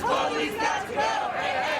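Protest crowd marching through downtown streets, a dense roar of many voices shouting and chanting together, loud and continuous with swelling surges.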